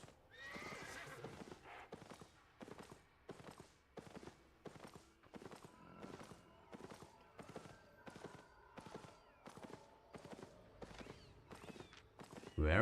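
Horse hooves clip-clop at a steady galloping rhythm in Albion Online, a long run of regular, evenly spaced thumps with a whinny near the start, close and fairly loud with no talking.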